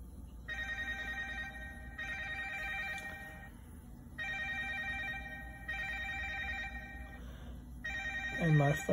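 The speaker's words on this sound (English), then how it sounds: "my phone is ringing and the number's not calling up" A phone rings in repeated trilling bursts with short gaps, moderately loud and close, under faint background noise.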